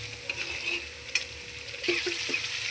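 Masala for katachi aamati fries in a pan while it is stirred. A quiet, steady sizzle runs under a few soft spoon scrapes and taps near the end.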